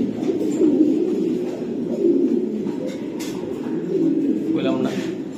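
A breeding pair of racing pigeons coo in soft repeated throaty phrases close by, while someone talks over them throughout.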